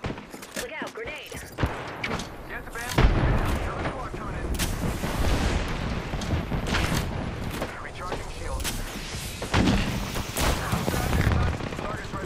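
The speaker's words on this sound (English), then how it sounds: "Look out, grenade." Grenade explosion in the battle royale shooter Apex Legends, heard amid dense, loud gunfire and thumping blasts, with in-game character voice lines and speech mixed in over the combat.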